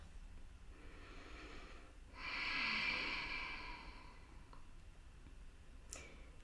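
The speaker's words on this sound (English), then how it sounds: "take a few breaths here, in and out through your nose" A single slow breath through the nose, soft at first and then swelling into a broad airy rush that fades out, heard close and alone over a low steady background hum.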